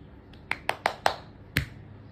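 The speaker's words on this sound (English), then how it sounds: "I clap my hands." A person's bare hands clapping a handful of times, five or six sharp, close, fairly quiet claps spaced irregularly over a soft room background.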